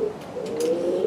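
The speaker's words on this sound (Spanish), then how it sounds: "El Pinto cogió 30 y pico palomas y aquí está dando" Pigeons cooing, a steady low throaty coo running throughout, fairly close and loud, with soft fluttering noises over it.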